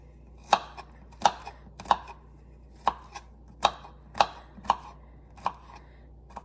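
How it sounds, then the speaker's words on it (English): Garlic being minced with a kitchen knife on a board, heard as eight sharp, separate chops at an uneven, unhurried pace, close by and fairly quiet, with no other sound. "for garlic I just usually use the knife"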